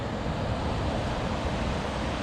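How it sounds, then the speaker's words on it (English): Water roars steadily over a broken, crumbling spillway on a flooded river, a dense, continuous rushing wash close by with no pauses or voices. "Beautiful spillway."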